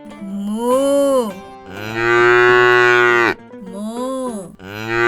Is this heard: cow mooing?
yes